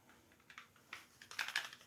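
A MASSTAC Kydex IWB holster for a Glock clicks as the pistol locks into place, a cluster of small, sharp, quiet clicks and snaps over about two seconds, with no voices.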